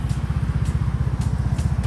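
A Honda PCX150 scooter runs while being ridden, its engine giving a low, even, throbbing hum close up with a light airy hiss above it and no talking.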